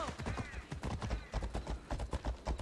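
Horse hooves clip-clopping in the video game Assassin's Creed Odyssey: a fast, steady gallop of loud, close hoofbeats that continues through the clip.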